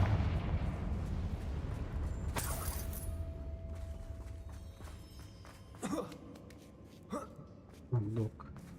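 A Confringo fire blast spell is cast in the video game Hogwarts Legacy: a sharp explosive burst rings out, then several shorter blasts follow over a steady low rumble of in-game ambience.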